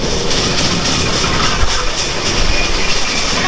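The Sundarban Express and Jahanabad Express cross on the Dhaka-Khulna line, rushing past at close range, loud and continuous, with rhythmic clickety-clack of wheels over the rails and no talk.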